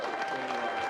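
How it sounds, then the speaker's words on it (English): Audience at an improv comedy show clapping steadily, a dense, loud burst of applause filling the whole short moment. "Give a big round of applause to Audrey."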